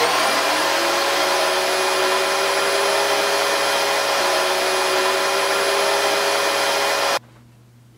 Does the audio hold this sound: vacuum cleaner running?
yes